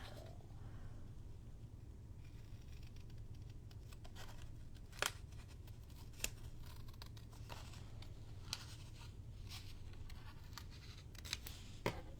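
Scissors snip through paper while a junk journal is trimmed, a handful of sharp, separate cuts spaced over a low steady background hum.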